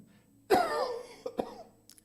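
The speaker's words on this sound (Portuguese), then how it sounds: "desculpe, irmãos, pela tosse aí" A single hoarse cough bursts out close to the microphone, followed by a shorter throat-clearing cough, in an otherwise quiet room.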